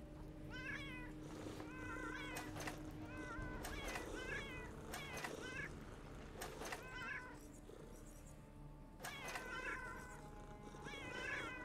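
Repeated cat meows from a video game, several distinct calls spaced across the stretch, some drawn out like caterwauls, over a steady background hum and game noise; no talking.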